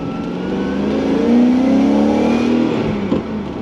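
A V8 car engine with noisy lifters revs to around 5,000 RPM, recorded loud and close from inside the cabin near a poorly insulated shifter, with a steady droning whine that rises and holds.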